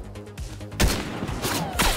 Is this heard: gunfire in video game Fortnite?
yes